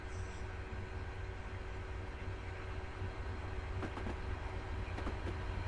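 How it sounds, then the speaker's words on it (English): A train rolls steadily through a Wensleydale village in a railway simulator game, a continuous low rumble with a few faint rail clicks near the end, no voices. "We'll get an overhead shot of our train passing through the Wensleydale village."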